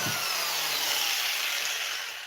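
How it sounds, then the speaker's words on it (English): An angle grinder cutting into scrap metal with a continuous, harsh high-pitched whine that holds steady and close for the whole stretch, tailing off slightly at the end. "Just get your angle grinder."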